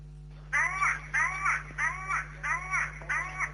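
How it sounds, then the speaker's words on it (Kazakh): A crow repeats a hoarse, voice-like call five times in an even rhythm, sounding like human speech, over a steady low electrical hum. "Алла деп азан шақырған құстың дауысы"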